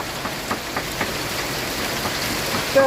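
Rain falls steadily outdoors as a soft, even hiss, with a few faint patters and bumps near the end.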